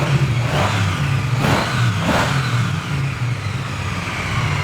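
A used 900 cc motorcycle engine revs hard in repeated blips, three quick rising surges over a steady loud idling rumble, close by.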